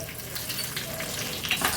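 Dense sizzling and spitting of curry leaves dropped into hot oil for tempering, loud and continuous with a sharper pop near the end.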